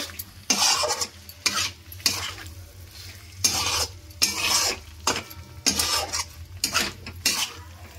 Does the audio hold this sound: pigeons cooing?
no